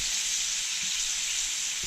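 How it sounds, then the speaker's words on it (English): Steak searing in a pan on a wood-fired cooktop of a soapstone wood cooker makes a steady, even sizzle and hiss for a couple of seconds, with a faint soft knock near the end. "320 so degrees to sear up the steak."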